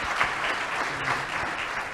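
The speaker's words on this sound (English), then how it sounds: "So a round of applause for my panelists," Audience at a Rwanda Governance Scorecard event applauding a panel, brief steady clapping from many hands in a hall, moderately loud and unbroken.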